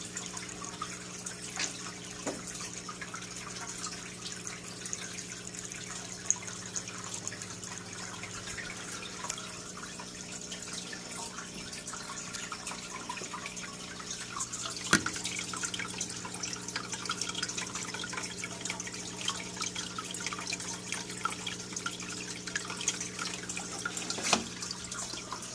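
Water trickles steadily through a homemade bottle power head filter with a trickle extension, a constant soft dribbling wash with a few sharper drips standing out.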